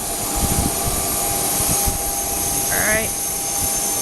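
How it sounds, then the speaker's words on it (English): Jet aircraft engines run steadily at a municipal airport, a constant broad roar with a faint rising whine, while a person speaks briefly over it. "Sounds like the engines are just turned on."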